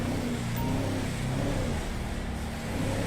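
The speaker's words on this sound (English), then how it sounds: "Even the engine sound, the engine's got some power to it." Engine of a 2021 Chevy Tahoe hums and revs steadily at moderate loudness for a few seconds, a continuous low rumble with no talking.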